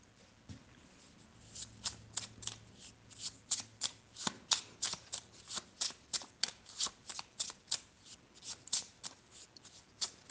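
A new deck of cards being shuffled, a long string of quick crisp riffles and flicks repeating at a brisk, fairly regular pace, close and soft, with no speech.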